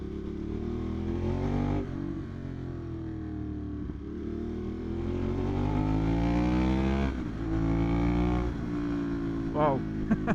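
Ducati Monster 821 Dark motorcycle out on a ride, its engine droning steadily with rising and falling pitch through gear changes and revs, loud and close throughout.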